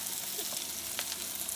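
A thick hamburger patty sizzles in a pan while being pressed flatter, a quiet, steady frying crackle with a few brief scrapes throughout.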